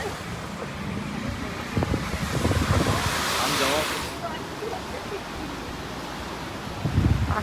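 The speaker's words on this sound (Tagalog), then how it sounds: "Grabe, ang lakas ng alon" Strong surf and a rushing water current roar through a flooded area, with broadband wash and gusty wind noise rising midway, while voices talk loosely over the churning water.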